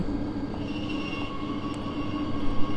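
A train in Train Sim World 4 rolls along on a late-night local run, its steady rumble and rail noise filling the scene continuously without any voices.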